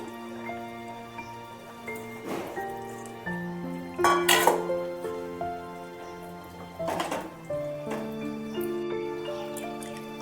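Brinjal pieces tipped into a cooking pot for Bengali shukto, a few separate clattering knocks and splats spaced a couple of seconds apart, heard over soft background music.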